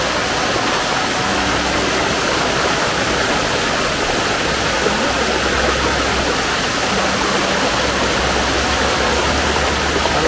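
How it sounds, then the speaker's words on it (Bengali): A powerful waterfall at Tanguar Haor near Jadukata, its cold current a loud, unbroken roar of rushing water filling the whole clip without pause. "দেখা যায় ঝর্ণার প্রচণ্ড পানি"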